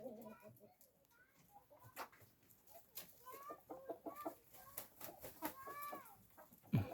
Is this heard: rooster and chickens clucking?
yes